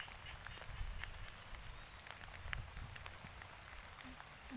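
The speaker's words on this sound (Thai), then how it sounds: "ตอนนี้ก็ตกอยู่ฝน" Heavy storm rain pours steadily over flooded farmland in Phetchabun, Thailand, a dense constant hiss with scattered drip and splash ticks, fairly faint and even throughout, with no voices.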